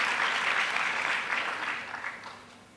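An audience applauding at a gathering in Thiruvananthapuram, a dense patter of clapping that holds steady and then gradually fades toward the end.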